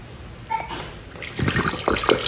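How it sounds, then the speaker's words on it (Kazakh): Cucumber pickling marinade poured out of a jar into a sink, a thin splashing stream of liquid that begins softly and grows steadier and fuller, close by with no talking. "Банканың маринатын осылай құйып алдық"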